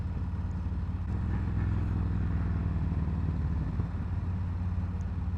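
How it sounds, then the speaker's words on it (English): A 2021 Harley-Davidson Road Glide motorcycle engine rumbles at a steady low idle, deep and close, a continuous even throb with no talking. "I love the sound of this bike."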